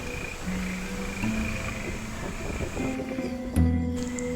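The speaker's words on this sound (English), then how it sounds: "the calls of frogs are heard in a systematic sequence" Frogs call from beside a torrential stream in the Amboli hills, croaking notes sounding in a sequence over a constant wash of rushing water.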